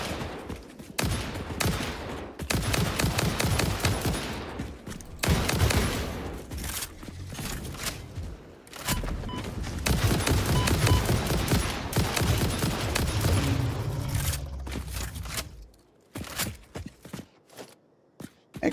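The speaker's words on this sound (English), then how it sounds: "I expected the rifle to do a little more damage than that, but I guess I'll take the rapid fire" Rapid rifle fire from Satisfactory, the factory-building video game: long, dense bursts of sharp gunshots crowd together for about fifteen seconds, loud and close, then thin out into a few scattered shots and clatters near the end.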